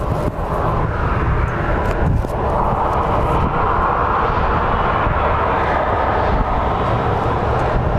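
A Lynx Air airliner at Phoenix Sky Harbor International Airport produces a loud, sustained jet-engine roar that stays heavy throughout, with a little wind buffeting on the microphone.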